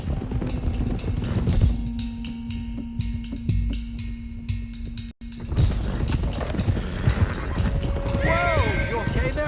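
Several horses clip-clop steadily along in Red Dead Redemption 2, hooves thudding in a brisk rhythm with a whinny near the end, while characters talk over the movement.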